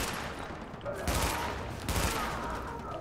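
Gunfire in The Division video game, a dense rattling fusillade of rapid shots that swells in two louder bursts, loud and close, running throughout the short clip.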